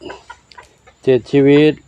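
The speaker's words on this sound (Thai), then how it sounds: "ก็ไก่อยู่ด้วยกันแล้ว7 ชีวิต" Several young backyard hens and roosters clucking close by in two loud bursts after quieter scattered calls.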